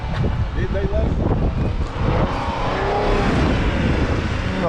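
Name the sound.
car engine running at an auto auction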